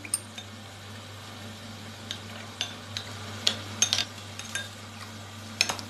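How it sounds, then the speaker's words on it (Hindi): A spoon swirls cornflour slurry for hot and sour soup, sending out a handful of faint, scattered clinks against a glass or bowl over a low steady hum, with no talking. "ये है कॉर्नफ्लोर, मैं इसका घोल बना लूँगी इसको सूप में डालने के लिए"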